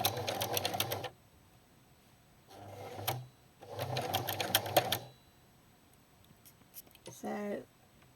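A sewing machine with a walking foot stitches petticoat pleats in two close, steady whirring bursts separated by a pause, with a brief short burst between them and quiet room tone after.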